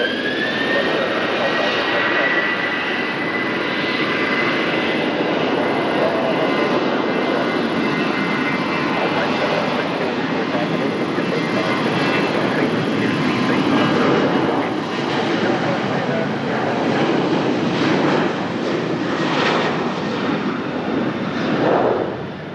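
Jet airliner engines roar loud and continuous during a takeoff at Lisbon Airport, a broad sustained rush that swells slightly over time, with faint radio chatter beneath.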